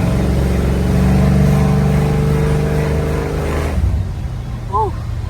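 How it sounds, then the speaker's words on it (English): Loud, close engine note of a 1955 Chevrolet Bel Air with a big block V8 as it accelerates on a road, a deep rumble that drops off abruptly near the end of the clip. "Give you a little gas with this nice big block."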